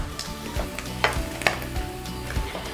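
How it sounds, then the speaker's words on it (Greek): Halloumi sizzling in a pot as a utensil scrapes the browned bottom and the cheese is emptied onto a plate, with a steady fry hiss broken by several sharp metallic scrapes and clinks, close and alone. "πήραμε χρώμα, ξύσαμε και τον πάτο και αδειάζουμε το χαλούμι σε ένα πιάτο."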